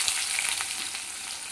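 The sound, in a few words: chopped onion frying in mustard oil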